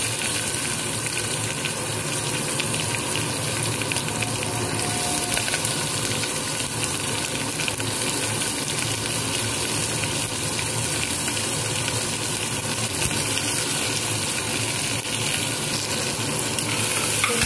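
Curry leaves, mustard seeds, dried red chillies and onion sizzle in hot oil for South Indian sambar, a loud, dense, continuous crackling hiss that stays even from start to finish with no talking.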